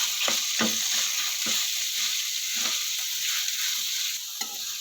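Boiled bamboo shoots (labong) being stirred with aromatics in a pan, a steady hissing sizzle with several soft scraping stir strokes, close and alone without talk.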